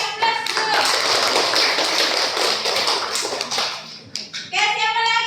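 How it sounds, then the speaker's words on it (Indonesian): Applause from a classroom audience during an academic supervision session, a dense, steady wash of many hands clapping for about four seconds before it fades and a voice begins speaking. "Kasih aplaus dulu"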